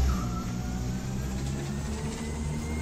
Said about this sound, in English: I'm surprised how the acceleration on this bus is so insane.